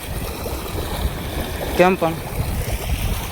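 Rainwater runs through a farm field after a downpour, a steady outdoor wash of flowing water under brief speech.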